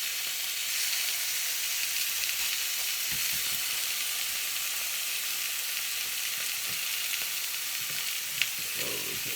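Chicken pieces browning in a pan over medium heat, with a steady broad sizzle and fry hiss throughout, close and even, with a small sharp crackle near the end and no talking.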